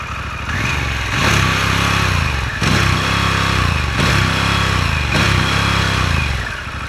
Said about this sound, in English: there I am revving a Harley-Davidson engine